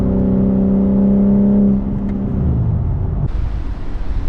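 A 2024 BMW M3 Competition sports sedan under throttle, its engine holding a loud, steady harmonic drone that drops and shifts partway through before a burst of broad rushing noise near the end.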